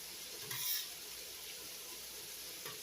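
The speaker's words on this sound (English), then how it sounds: "So what I'm going to do is go ahead and add my onions." Onions tipped into a lightly oiled frying pan give a soft, steady sizzle, with a slightly louder burst near the start and a faint stir later; nobody talks.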